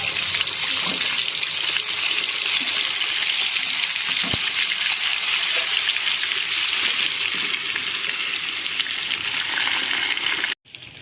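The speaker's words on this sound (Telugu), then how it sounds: "మనం నానబెట్టుకున్న చికెన్ని ఇందులో వేసి ఫ్రై చేసుకోవాలి" Marinated chicken deep frying in hot oil gives a loud, dense, continuous sizzle and crackle up close, holding steady for about ten seconds before stopping suddenly.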